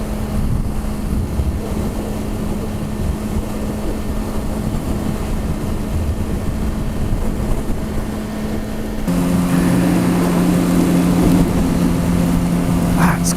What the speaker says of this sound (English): In a long time I've had my bike in 6th gear to conserve gas.